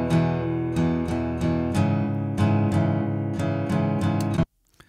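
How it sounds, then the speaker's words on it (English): Acoustic guitar loop of strummed chords in a steady rhythm, close and clear, about a dozen strums before stopping abruptly near the end. "So we have an acoustic guitar that sounds like this."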